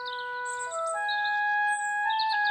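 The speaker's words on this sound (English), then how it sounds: "it's so lovely to wake up to the song of a little bird" A little bird sings on a morning in a children's cartoon kingdom, a clear, steady run of bright whistled notes with soft chirps layered above. It sounds close and continuous, with no talking.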